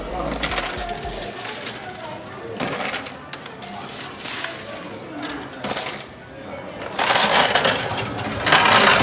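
Coins tipped a little at a time into a bank's coin-counting machine, a three-year piggy bank's savings, making bursts of jangling, clattering metal in several separate pours, fairly close and loud with no talk.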